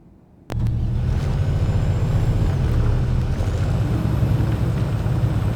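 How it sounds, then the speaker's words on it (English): An armored personnel carrier drives in the Nirvana: Eventide video game, a sharp onset followed by a loud, steady low engine rumble with faint higher whines, alone and close. "up onto the APC. We'll drive to an overwatch point so you can designate targets for the Samsara."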